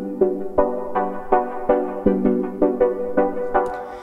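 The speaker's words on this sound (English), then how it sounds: "that's this pad right here. It sounds like this." A synth pad from Ableton Live plays alone as a sustained harmonic tone, pulsing in a steady rhythm of about ten soft repeated attacks, with a brief brighter shimmer near the end.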